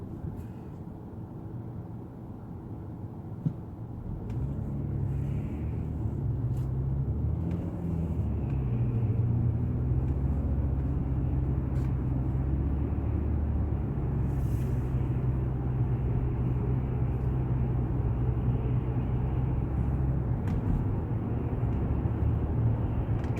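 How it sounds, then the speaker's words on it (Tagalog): Road traffic flows past in the Philippines, a steady low rumble of cars and heavier engines that swells after a few seconds and then holds continuously, with no talking. "Traffic"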